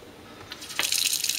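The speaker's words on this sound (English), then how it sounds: "and you put it under some really hot water, it'll come apart for you" Hot water starts running from a kitchen sink tap, a quiet lead-in giving way to a bright, steady splashing stream close by, with no talking.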